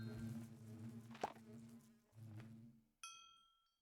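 A video game chime rings out once near the end as a clear bright ding that decays slowly, following a low buzzing insect-like hum from bees in the game.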